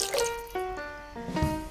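Bottled mineral water glugs and splashes into a cooking pot for sinigang, a few burbling pulses with resonant ringing tones as the pot fills.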